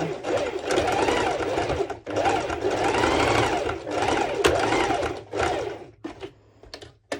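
A sewing machine secures an overlocking stitch on bikini bottoms in several close, loud bursts of rapid whirring stitching separated by brief stops, ending in short stutters and clicks.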